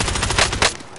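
Rapid bursts of Warzone gunfire, loud and close, with a few sharp peaks before trailing off at the end; no one talks.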